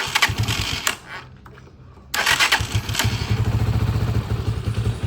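Starter cranking on a Euro 150 motorcycle wired directly after a broken ignition switch: a short whirring crank, a brief quiet pause, then the engine catches into a steady, close, rapid idle putter.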